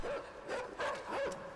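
A dog barks in the video game Inside, giving three or four moderately faint, evenly spaced barks against quiet background ambience.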